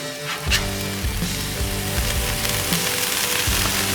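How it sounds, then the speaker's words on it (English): A smash burger sizzles loudly and steadily on a hot Loco Cookers griddle, with a few scraping spatula strokes as the patty is flipped over, close and unbroken by talk. "we're gonna go ahead and flip my burger over here"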